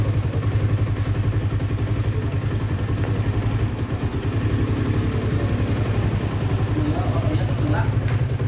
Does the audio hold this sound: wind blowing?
no